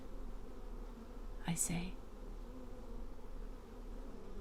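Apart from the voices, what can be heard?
bees buzzing at a beehive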